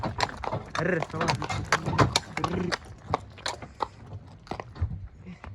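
A mare being offered for sale eats steadily, her chewing and crunching bites coming in quick irregular bursts close by, while someone talks over them throughout.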